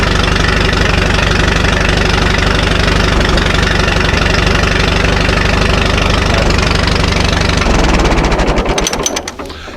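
An old barn-find tractor engine runs steadily with a loud, rough knocking idle for about eight seconds, then sputters and fades as it shuts down near the end.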